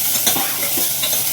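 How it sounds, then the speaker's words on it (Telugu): Curry leaves fry in a hot pan, a close crackling sizzle with quick spitting pops throughout a short burst. "కరివేపాకు వేయాలి ఫస్ట్,"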